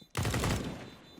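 A single sharp rifle shot in the game Counter-Strike on the Dust 2 map, loud and abrupt, then decaying quickly into a short ring.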